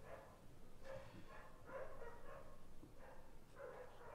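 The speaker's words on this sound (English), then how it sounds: "and now the dog's barking." A dog barks a few times at a distance, short separate woofs spaced roughly a second apart over quiet background.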